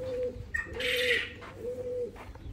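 Male pigeon cooing in a loft, three drawn-out low coos in a row, close, with a few faint higher chirps from other birds behind.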